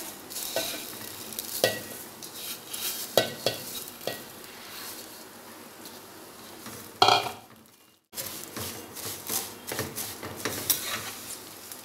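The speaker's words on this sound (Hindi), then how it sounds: "सवैयों को थोड़ी देर फ्राई करेंगे" Seviyan vermicelli frying gently over a low flame, with a soft continuous sizzle broken by repeated stirring scrapes of a spoon against the pan and a brief louder clatter partway through.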